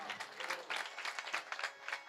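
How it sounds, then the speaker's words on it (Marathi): A kirtan audience applauds, a brief burst of dense clapping from a crowd, fairly faint and even throughout. "त्यामुळे या वर्गासाठी टाळ्या वाजवा तुम्ही"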